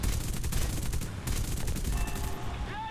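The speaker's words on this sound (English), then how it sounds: "fire a long burst and a 50 cal lands right in the cockpit" Spitfire LF Mk 9 machine guns firing a long, dense rattling burst in the War Thunder flight game, loud and continuous, with engine drone beneath and a faint whine toward the end.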